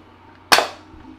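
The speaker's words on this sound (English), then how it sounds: "bring it back up, and fire a dart." A Nerf Ratchet Blast break-action blaster fires a single dart: one sharp, close snap-pop with a short airy tail, alone against near silence.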